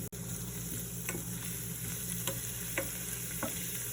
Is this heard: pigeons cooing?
no